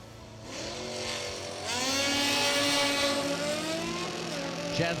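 A Plymouth Belvedere and a 2019 Hayabusa launch in a drag race at King of the Creek, engine tones climbing in pitch as they rev and pull away, loud and sustained, with a sharp transient near the end.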